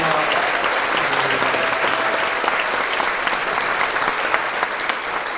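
A church congregation applauds steadily at a worship service honoring a newly proclaimed elder, a dense, even clapping that fills the room for several seconds with a faint crowd murmur beneath.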